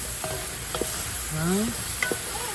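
Ginger-garlic paste sautéing with onions in a pan outdoors, steady sizzle with scraping stir strokes and a few sharp clinks of the spatula against the pan, while birds chirp in the background.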